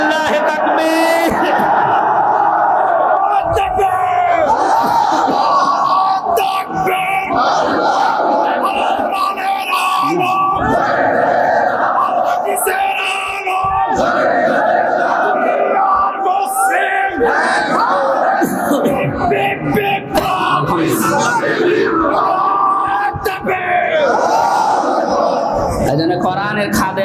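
A large crowd at an Islamic sermon gathering roars a takbir chant in unison after a preacher's call, loud sustained massed voices rising and falling in waves over nearly half a minute.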